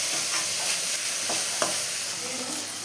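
Onion stir-fried in a pan until brown, with a continuous sizzle broken by occasional scraping strokes of a spoon, close and steady.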